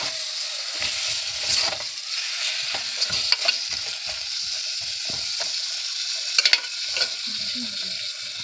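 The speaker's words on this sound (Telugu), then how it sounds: "కీమా వేసిన తర్వాత కాసేపు కీమాని ఆయిల్లోనే కొంతసేపు ఫ్రై చేసుకోండి" Minced mutton keema with turmeric sizzles in hot oil, a steady close frying hiss broken by repeated scraping clicks as a spoon stirs the pan, with no voices.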